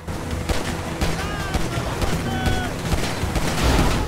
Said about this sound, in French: Je tire dans les pneus, là.